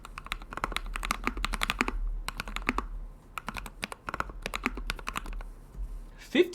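Rapid keystrokes on a custom aluminum Tofu 60 keyboard, including spacebar presses, rattle in dense, uneven bursts with brief gaps, recorded close and heard on their own until a faint sound at the very end.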